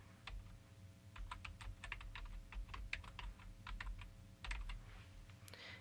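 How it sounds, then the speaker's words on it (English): Rapid, uneven keystrokes tap on a computer keyboard, faint and close, clicking alone for several seconds with no voices. "So I'm going to type Pelican Island."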